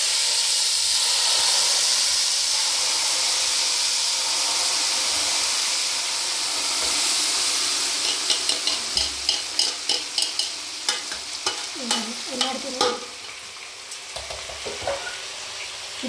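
Hot tempering poured into a homemade tomato pickle-style chutney, a steady loud sizzle and hiss that then breaks into a run of sharp crackles and spatters as it settles, with no voices.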